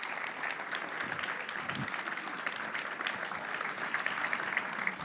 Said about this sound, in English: So please give Peter a round of applause.